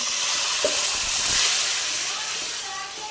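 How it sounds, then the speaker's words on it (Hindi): Food frying on a low flame while making lasagna, a steady close hiss and sizzle that holds evenly throughout with a faint low knock partway through. "हल्की आंच पे इसे फ्राई करना है"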